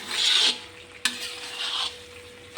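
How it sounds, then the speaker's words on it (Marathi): Onions fried in oil in a pot are stirred in two scraping sweeps, each with a sharp clink of the utensil against the metal, over a soft sizzle. "परतून परतून असा झाला आहे कांदा गोल्डन कलर"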